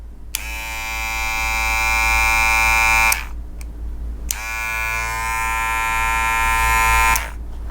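A Wahl Cordless Detailer Li hair trimmer switched on twice, each time giving a loud, close, high buzzing whine for about three seconds before cutting off, with a short pause between runs.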